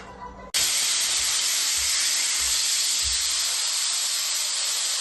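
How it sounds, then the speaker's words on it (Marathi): A pressure cooker cooking rice lets out a loud, continuous steam hiss that bursts in abruptly after a short quieter moment and holds steady to the end, close by and alone. "इकडे लावलेला आहे कुकर कुकरला भात लावलेला आहे"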